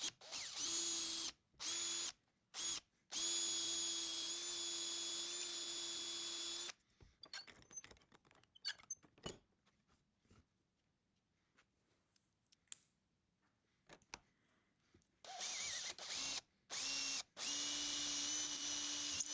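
A power drill bores a 6.5mm hole in a wooden guide block, with loud steady whirring bursts that stop and start, separated by a quieter stretch of clicks and handling noise, no talk.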